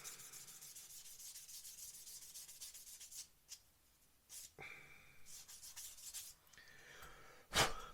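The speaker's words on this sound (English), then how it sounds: "Quick rub with a sanding stick." A sanding stick rubs back and forth over a mould seam on a plastic 1/35 Takom AH-64D Apache model kit part, quiet close-up scratchy strokes in uneven bursts, followed by a brief sharp rustle at the end.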